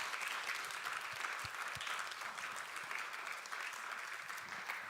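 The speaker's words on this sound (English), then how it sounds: "Can we have a big round of applause for these guys" Applause closes a podcast panel before a live audience, with dense, even clapping from a crowd held steady throughout at a moderate distance.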